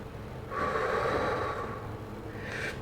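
Deep, steady breathing during an ELDOA stretching exercise for goalies, with one long breath lasting about two seconds and a fainter breath near the end, close and alone.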